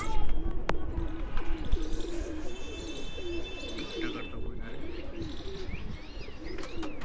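Sialkoti pigeons, offspring of a breeding pair in a loft, give repeated low rolling coos in a steady rhythm, close and clear, with chirps and faint voices in the background.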